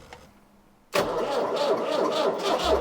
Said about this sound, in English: the engine roars back to life after more than 2 years of sitting on the hard here